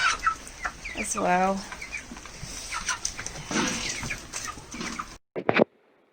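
Chickens clucking in a homestead shed, a run of rapid stuttering clucks near the start followed by scattered softer clucks and movement, with someone speaking briefly near the end.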